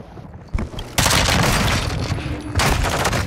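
Shotgun fire in Call of Duty DMZ: a short pop, then a loud close-range blast erupts into sustained booming gunfire, followed by a second heavy burst near the end.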